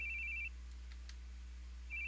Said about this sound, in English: Hearing phones ring. It's yours, right? Make it stop already.